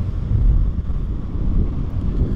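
Strong wind at a beach buffets the microphone with a heavy, gusty low rumble, continuous and loud, with no voices.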